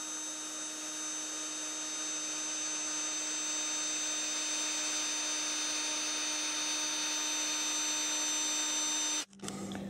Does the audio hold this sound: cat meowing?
no